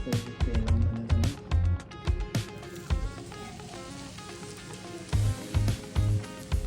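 Mackerel (bangada) coated in rava frying in hot oil, a steady close sizzle running throughout with louder bursts of crackle and dull knocks near the start and end, alongside faint background music.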